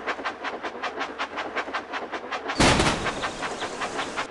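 A Thomas and Friends engine runs in the video game Magical Tracks: a steady, rhythmic clickety-clack of wheels, then a sudden loud burst partway through as the chugging carries on.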